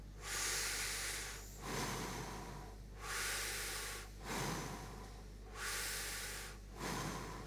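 Slow, deep breaths drawn in through the mouth, about six audible inhalations in a steady rhythm with short pauses between them, close and clear over a low constant hum, with no talking.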